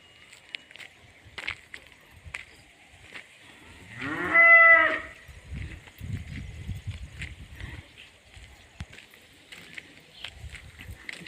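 Cows mooing on a farm with trees and maize fodder, one long loud moo in the middle standing out over quieter rustling and footsteps.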